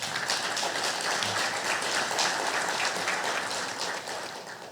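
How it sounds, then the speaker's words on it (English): At the official launch ceremony for the 2026 Commonwealth Heads of Government Meeting, the audience gives a steady round of applause, moderately loud and dense, tapering off slightly in the last second. "And I think we deserve a big round of applause."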